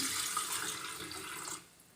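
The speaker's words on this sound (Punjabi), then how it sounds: "ਇਹਦੇ ਵਿੱਚ ਪਾ ਦੇਣਾ ਆਪਾਂ ਕੈਟਲ 'ਚ ਥੋੜਾ ਜਿਹਾ ਪਾਣੀ" A steady stream of water pours briefly into an electric kettle, then cuts off near the end.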